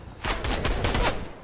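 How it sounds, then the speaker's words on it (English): A rapid burst of automatic gunfire aimed at the player in the Fortnite video game, a short dense string of close, loud shots lasting just over a second, with no speech. "Somebody's trying to shoot me."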